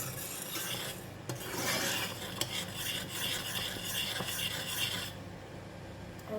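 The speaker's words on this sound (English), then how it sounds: "Just to keep stirring" Coconut pandan jelly mixture being stirred in a pot, a steady close scraping and rubbing of the utensil against the pot that runs continuously, then thins out near the end.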